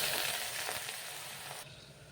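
Hot oil sizzles and crackles steadily up close as green onion is added, a brief frying hiss that drops off sharply near the end.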